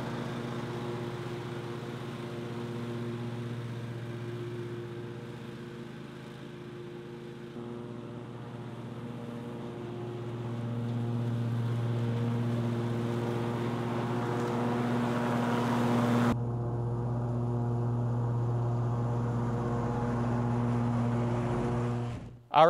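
A Cub Cadet Ultima ZT1 zero-turn mower cutting grass gives a steady, loud engine drone with a strong low hum that holds throughout and swells slightly partway, with no talk.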